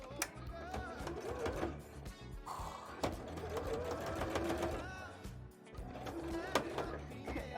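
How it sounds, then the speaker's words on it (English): A sewing machine stitches through thick fabric for a bra in a steady, loud mechanical run, with a short pause partway through and someone speaking now and then. "Come on, come on. Sew it. I believe in you. You've got this machine."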